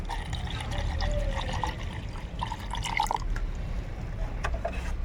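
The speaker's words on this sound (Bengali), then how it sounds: "এবার এর মধ্যে আমি জল দিয়ে দেব।" Water is poured into a rooting solution for rose cuttings, a steady close trickle and splash with small drips, running continuously throughout.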